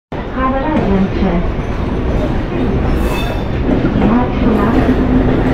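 A Howrah–Purulia MEMU local train running out of Howrah, loud and close from on board, with a constant rolling rumble and rising wheel squeals.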